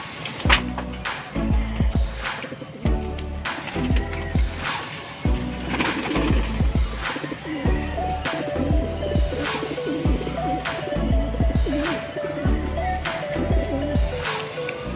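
Pigeons coo close by in repeated soft, throaty phrases at an irregular rhythm, with sharp knocks and clatters between the calls.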